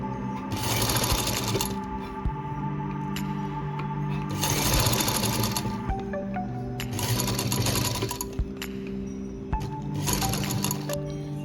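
Close, steady whirring of a sewing machine stitching a fabric cover for a baby feeding bottle, running in several bursts with brief pauses and small clicks between them.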